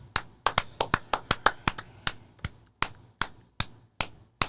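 A single person claps hands in a steady series of about twenty sharp, close claps, brief pauses between groups, in a quiet room with no talking.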